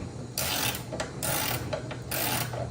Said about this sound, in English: So, all you need is a 13mm wrench.